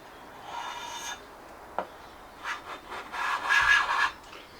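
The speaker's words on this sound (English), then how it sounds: "See, I'm just scraping the paint." Paint being scraped off a guitar body that was coated with Nitromors stripping gel, the paint still unsoftened: dry rasping scrapes in short bursts, one sharp tap in the middle, close and moderately loud with no talking.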